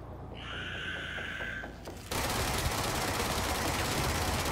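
Rapid bursts of automatic gunfire in the video game Control, loud and continuous, following a brief high electronic whine at the start.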